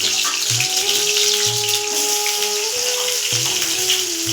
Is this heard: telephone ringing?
no